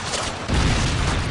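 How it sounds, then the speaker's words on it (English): A Predator missile explosion in a multiplayer shooter game: a heavy, loud boom hits about a third of the way in, leaving a dense rumbling roar that carries on to the end. "Friendly Predator missile inbound."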